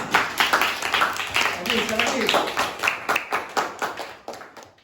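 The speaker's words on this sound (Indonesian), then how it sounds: "Tepuk tangan semuanya untuk Bisma" Classroom applause from a fifth-grade class at an Indonesian primary school, many small hands clapping in a loose, fast patter that swells and then breaks into a few distinct closing claps, with children's voices mixed in.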